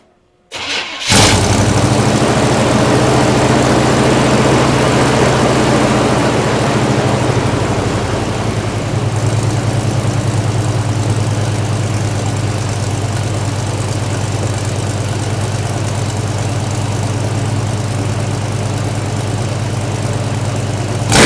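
A Chevrolet Blazer truck engine with Flowmaster mufflers cranks and fires up with a loud burst, then settles into a deep, rumbling idle that holds steady throughout.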